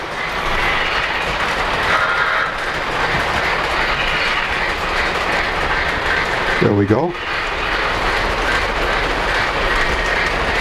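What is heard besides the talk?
Polar Express model railroad passenger train running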